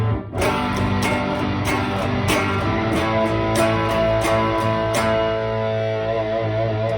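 An electric guitar plays a riff, loud and sustained with distorted tone and repeated picked notes, no voice.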